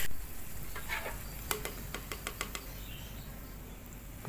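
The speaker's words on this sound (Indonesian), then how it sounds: "Enak banget goreng tempe." Tempe frying in a pan, a soft steady sizzle with a run of sharp popping crackles in the middle, close by and without talk.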